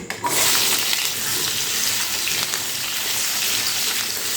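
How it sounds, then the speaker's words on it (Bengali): Pumpkin pieces fry in hot white oil with a loud, steady hiss and crackle that runs unbroken throughout, close by and alone. "তখন এই তেলের মধ্যে মিষ্টি কুমড়োগুলো দিয়ে একটু ভেজে নিতে হবে"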